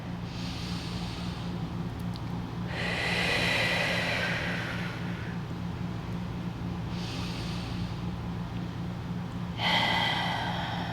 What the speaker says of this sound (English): Let's take 2 more full cycles of breath here.